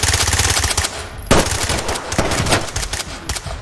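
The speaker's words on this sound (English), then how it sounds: "I was getting shot from behind me as well." Dense, sustained automatic gunfire from a firefight in the tactical shooter Ready Or Not, loud and close, rattling in rapid bursts with a sharp louder crack partway through and barely a pause throughout.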